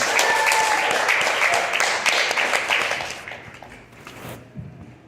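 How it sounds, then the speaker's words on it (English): Audience applause at a live event, loud and dense across the room at first, then thinning out and fading toward the end with a few scattered claps left. "Applause for my good friend, Martha Robinson."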